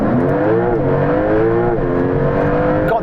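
A Porsche 911 Turbo S and a Carrera GTS accelerate hard off the line in a half-mile drag race, a loud sustained engine roar with rising and shifting tones heard from close by.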